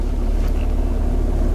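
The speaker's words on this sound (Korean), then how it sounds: "디젤 엔진의 그런 갈갈거림하고 엔진의 웅웅거림" A BMW X4 xDrive M40d diesel engine starts and settles into a steady, loud low rumble with a gritty clatter, heard continuously without talk from close by.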